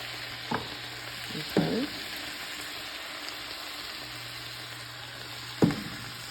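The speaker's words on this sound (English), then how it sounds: "you're going to stir fry this on high for about another minute" Teriyaki chicken and broccoli in sauce stir-fry over high heat with a soft steady sizzle, broken by a few scraping utensil strokes and a low background hum; no voices.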